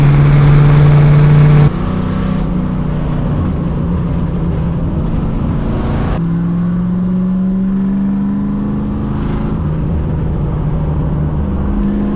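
A 1969 Ford Mustang Fastback's 5.0 V8 rumbles loudly while driving with a manual gearbox, its deep throaty note shifting through gear changes and revs over several seconds.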